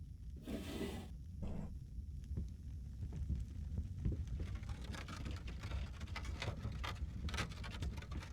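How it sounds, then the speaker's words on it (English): Rain falls in the horror video game Layers of Fear, a faint, steady patter of drops with scattered sharper taps and a couple of brief bursts early on. "And the rain came down"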